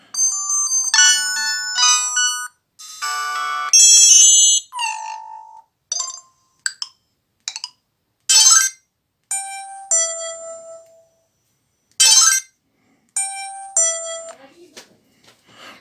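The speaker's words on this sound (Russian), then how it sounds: "Message tone. Это когда будет смс-ка приходить." A Samsung SGH X510 red flip phone plays a series of short electronic message alert tones one after another, bright chiming melodies and single beeps separated by brief silences, clear and close.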